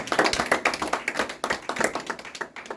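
A church congregation applauds, the claps sounding as a dense, fast run of sharp slaps from many hands that stays fairly close and even before easing off at the end.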